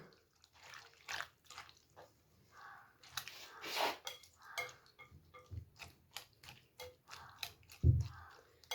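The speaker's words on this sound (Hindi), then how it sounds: "अब इसको मिक्स करेंगे।" Vegetable chaat with lemon juice mixed by hand in a bowl, giving soft wet squelches and clinks at an uneven pace, close and fairly quiet.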